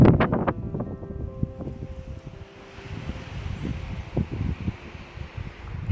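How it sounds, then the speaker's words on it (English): A gust of wind moving through trees beside Heart Lake near Lincoln, Montana, a faint rushing and rustling under scattered low thumps and handling noise, steady and close to the microphone. "it's just this big gust of wind just moving through the trees"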